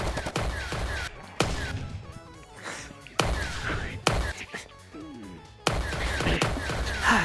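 Bursts of plasma gunfire in a VRChat gang roleplay shootout, sharp broadband blasts repeating in uneven volleys with crashing impacts, loud and close, with faint voices mixed beneath.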